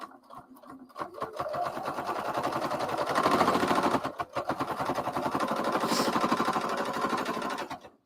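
A sewing machine stitches fabric for a tabard, a close, loud, rapid mechanical whir running in two long bursts with a brief pause between, no talking.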